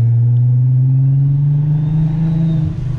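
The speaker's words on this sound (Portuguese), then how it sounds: "olha o som da turbina" A 650 hp biturbo Volkswagen Golf R32 MK5 runs with a loud, steady, deep engine drone, close by. A faint high turbo whine rises slowly above the rumble.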